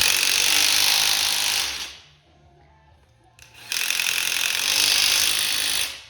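An impact wrench tightens bolts during a Mazda MX-5 V8 engine swap, with two loud, close bursts of rapid hammering separated by a short quiet gap, no talk.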